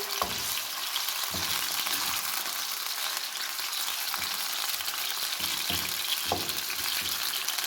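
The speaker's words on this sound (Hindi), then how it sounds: "इसको हम अच्छे तरीके से फ्राई कर लेंगे 8 से 10 मिनट के लिए" Washed chicken pieces fry in hot oil in a karahi for Afghani chicken karahi, a loud, constant crackling sizzle close by, punctuated by a few soft knocks of a utensil stirring the pan.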